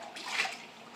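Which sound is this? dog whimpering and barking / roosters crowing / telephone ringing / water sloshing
water sloshing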